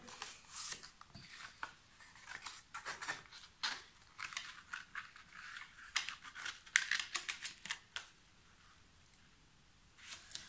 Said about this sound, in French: vous pouvez sur chaque rabat couper les angles